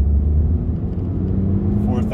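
Standard Mk3 Toyota MR2 Roadster (Spyder) engine held near 4,000 RPM while driving on an open road, a steady low droning hum with a faint rising whine at the end, heard under a voice.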